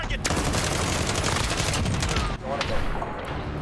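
Rapid automatic rifle fire in a Modern Warfare match, dense overlapping shots running continuously and loud through the whole stretch with a short dip near the end, with faint game noise underneath.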